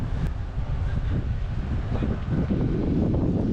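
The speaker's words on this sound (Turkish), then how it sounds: "Bugün biraz rüzgarlı bir hava var." Steady wind buffets the microphone outdoors in Kaş, Antalya, a continuous low rumbling roar with no pauses throughout.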